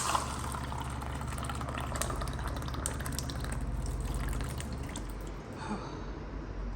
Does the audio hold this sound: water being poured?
yes